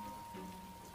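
Rain falls in a steady, faint, even hiss with no distinct drops, with a low hum underneath.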